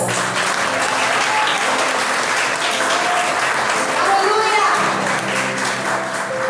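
A church congregation applauds God during a Portuguese-language sermon, the clapping loud, dense and continuous, with voices faintly mixed in.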